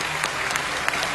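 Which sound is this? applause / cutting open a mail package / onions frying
applause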